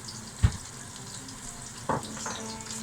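Onions frying in a pan for a chicken dopiaza, a faint steady sizzle with two brief louder clatters of stirring, no voices.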